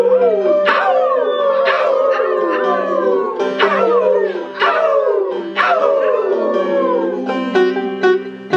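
A voice imitates a pack of medium-sized hounds howling, with long wavering howls repeated in a rhythmic series, loud and close, during a live folk song performance.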